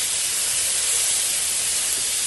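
Cucumbers and tomatoes sizzle in a very hot pan, a loud, steady, bright hiss that fills the whole short stretch without a break.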